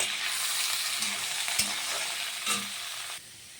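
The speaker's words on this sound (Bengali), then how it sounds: "ধোয়াকেই ডালটা দিয়ে দিচ্ছি ভালো সুন্দর করে নাড়াচাড়া করব" Masoor dal tipped into a pan of spices fried with bay leaf sizzles loudly and steadily as it is stirred, with a couple of sharp spoon knocks against the pan before the sizzle drops off near the end.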